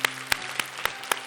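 A church congregation claps for their parents in a short, even burst of about five sharp, evenly spaced claps, heard fairly close over a low hum.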